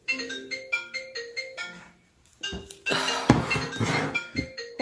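A phone ringtone plays a repeating melodic chime pattern from another room of a home, mixed with clinking dishes and kitchen clatter nearby; the ringing pauses briefly, then resumes among louder clanks.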